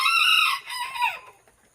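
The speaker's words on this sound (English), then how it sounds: "this rooster is not going to let me talk" Rooster named Henry crowing loudly and close by on a homestead garden, one long drawn-out cock-a-doodle-doo call that tails off, followed by the start of another burst.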